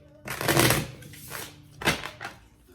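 A newly acquired Light Seers Tarot deck is shuffled by hand, giving two bursts of papery riffling and card slaps, the first longer and louder, the second shorter, both close and with no talking.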